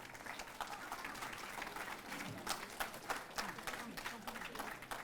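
Audience applause at a university World Environment Day event in Mysore, fading toward its end; dense steady clapping from a hall crowd with scattered sharper claps, fairly distant and even throughout.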